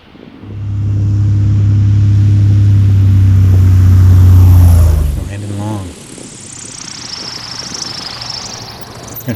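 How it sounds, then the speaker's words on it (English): A Cessna Skywagon on big tires roars through a flaps-20 takeoff run, its loud steady engine drone holding for several seconds before dropping sharply to a quieter, airy hum as the plane lifts away. "This one is flaps 20 takeoff, like a POH says to do, is the shortest one."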